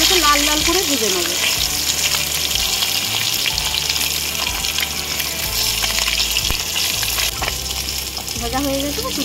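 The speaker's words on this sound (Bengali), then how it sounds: "মাছগুলোকে লাল লাল করে ভেজে নেব।" Pieces of katla fish fry in hot oil in a wok. A loud, continuous sizzle sits up close, with tonal background sounds weaving underneath.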